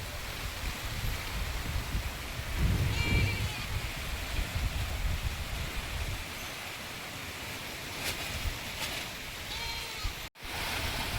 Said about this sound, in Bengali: হঠাৎ কত জোরে বৃষ্টি এসে গেল।